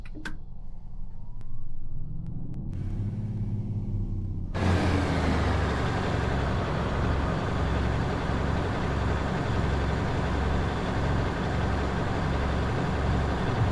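In Train Sim World 5, a Thomas the Tank Engine locomotive pulls away in the game: a few quiet knocks, then a rising mechanical rumble that swells into a loud, steady, rhythmic chuffing drone, close by, with no voices.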